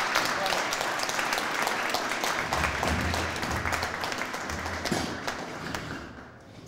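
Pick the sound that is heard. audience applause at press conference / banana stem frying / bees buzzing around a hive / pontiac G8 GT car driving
audience applause at press conference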